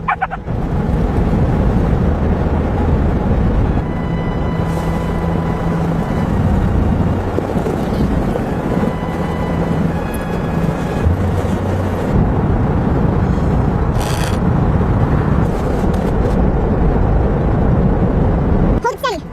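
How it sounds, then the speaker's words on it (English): Strong wind roaring steadily through a snowstorm on an open sheep farm, a loud continuous rush throughout, with people calling out and shouting over it at times. "The wind is strong."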